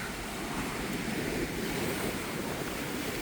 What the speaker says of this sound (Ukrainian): Ми тільки поплавали і зразу усилилось вітер.